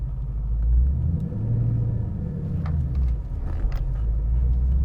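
A 2013 Chevrolet Camaro ZL1 with a 6.2 liter V8 and 130,000 miles idles with a deep, loud, continuous rumble, rising slightly in a brief swell before settling back to a steady throb.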